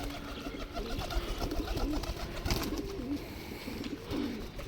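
Pigeons coo steadily at close range, layered with other bird calls over a dense, busy outdoor background.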